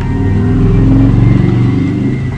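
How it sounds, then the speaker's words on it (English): Motorcycle engine in the video game Bomberman Jetters, a loud close rumbling rev that holds steady and pulses over about two seconds. "Dang motorcycle."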